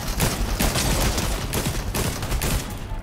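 Rapid bursts of gunfire from Fortnite fill the clip, loud and dense, with repeated volleys of automatic shots and brief pauses between bursts, no talking over them.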